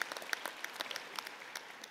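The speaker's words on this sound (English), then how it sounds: "that guy deserves a round of applause" Audience applause at an autumn university graduation convocation, a steady wash of many hands clapping with sharp individual claps standing out, filling the whole short stretch in a large hall.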